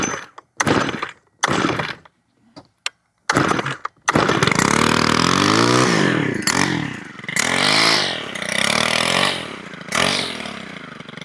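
A Stihl FS 91 R weed trimmer gets several short, sputtering pull attempts with pauses between them, then the engine catches and runs loud and close, with its revs rising and falling.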